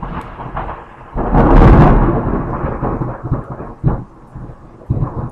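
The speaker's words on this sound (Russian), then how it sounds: "Я записываю гром." Heavy thunder rolls through a pouring rainstorm, rising into a loud, close rumble that peaks and then breaks into scattered cracks and lower grumbles over the steady rain.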